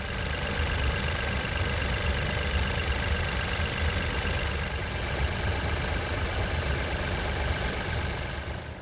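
A Volkswagen T-Cross engine idles with start-stop switched off, a steady mid-low hum with a faint ticking, even and continuous, heard close with no talk over it.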